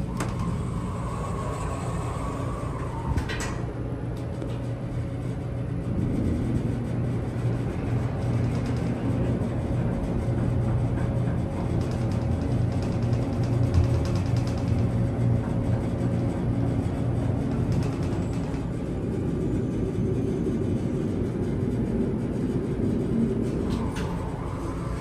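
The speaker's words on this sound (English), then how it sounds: "You can't really hear the motor all over that fan." Ventilation fan running inside a 1993 Montgomery hydraulic elevator car at a college library, a steady broadband whoosh with a low hum, continuous and close throughout, joined by a few faint thumps and a brief chime.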